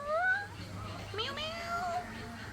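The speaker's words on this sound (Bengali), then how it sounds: "ওয়াও, দুইটা বিড়াল।" Two cats meow in Abi River Park, Brahmanbaria, giving a couple of soft, wavering mews at a moderate distance over quiet outdoor background noise.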